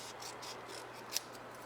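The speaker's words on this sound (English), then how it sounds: "I do want to trim my greeting, and I'm just using my scissors." Scissors trimming a paper greeting for a handmade card, with soft rubbing strokes and one sharper snip near the end, faint and close with no talking.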